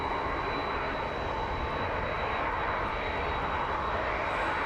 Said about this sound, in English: And the 767 making its way towards us now.